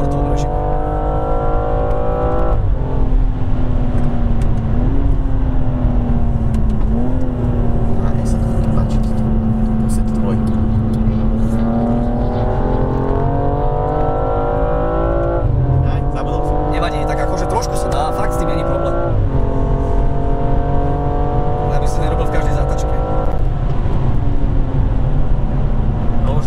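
A BMW M235i F22's engine accelerates hard on a test drive, a loud, steady drone whose pitch climbs and surges through gear changes, with someone talking over it throughout.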